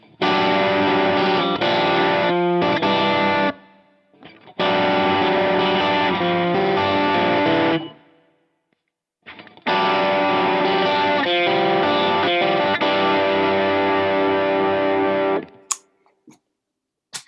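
Electric guitar run through an overdrive pedal into an amp, played in three loud, sustained, distorted passages separated by brief silences.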